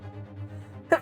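A single short sneeze from a character in the video game The Great Ace Attorney, sharp and loud at the very end after a low sustained musical hum.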